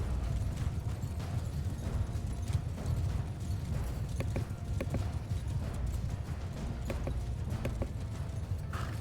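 Horse hooves clip-clopping in the video game Mount & Blade II Bannerlord, a steady fast rhythm of hoofbeats over a low background rumble.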